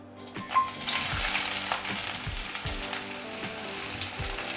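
Chopped onion drops into hot oil in a wok (kadhai) and sizzles loudly, a steady frying hiss with soft scraping stirs, no voices.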